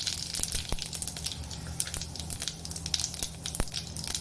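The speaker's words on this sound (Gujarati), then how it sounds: "હવે એમાં જીરું નાખી દઈએ." Mustard and cumin seeds sizzle in hot oil in a pan on a gas stove, a steady close crackle broken by sharp, scattered pops, with no voices.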